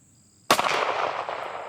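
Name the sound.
gunshot from handgun during trigger finger drill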